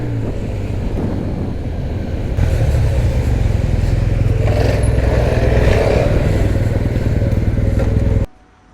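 A 2022 Yamaha TMAX 560 scooter with a Crack Racing exhaust runs close by, its engine droning loud and steady as it picks up speed, then cuts off abruptly at the end, with no talking.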